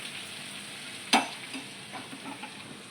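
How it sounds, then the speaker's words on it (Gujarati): Tempering with ginger-chili paste gets stirred into a homemade Gujarati dish with the gas off, giving one sharp clatter, then soft scraping and faint sizzle at a moderate distance. "હવે આપણે આ વઘાર આમાં મિક્સ કરીએ."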